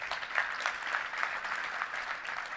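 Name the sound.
audience applause for Jeff Puritan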